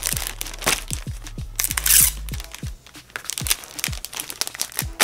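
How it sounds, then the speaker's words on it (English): A t-shirt and stickers are pushed into a clear plastic poly bag while packing an order. Crinkly plastic rustles and crackles come in irregular close bursts, with soft thuds of handling in between. "it goes into the clear poly bag. Once it's in there, I also throw in some stickers into the clear bag."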